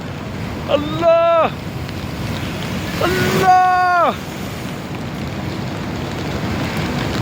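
Large ocean waves surge and wash under strong wind noise, a constant roar of surf with people shouting excitedly over it in two bursts.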